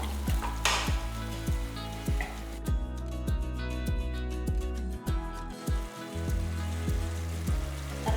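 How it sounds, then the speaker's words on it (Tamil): A ground cashew paste mixture pours into a hot pan and sautés, giving a steady close sizzle and frying crackle with no talking over it. "இதையும் இதில் ஊற்றிடலாம் நல்லா வதங்கட்டும்"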